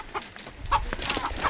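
A chicken clucks and squawks in short, close bursts while men chase it in a remote Himalayan village. Faint background commotion sits underneath.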